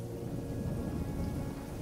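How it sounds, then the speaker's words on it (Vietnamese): Steady, dense rainfall with a deep rolling rumble of thunder, used as a sound effect in an audiobook, heard as a continuous wash of rain without any voice. "trong tiếng mưa và tiếng sét"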